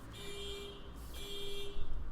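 An alarm sounds during an indoor recording: two steady electronic tones, each about a second long with a short gap between them, fairly faint against background noise.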